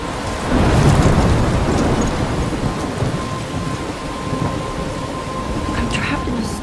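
Heavy rain pours down during a thunderstorm in the video game Life is Strange, a loud thunder rumble swelling near the start and then fading into a constant dense patter.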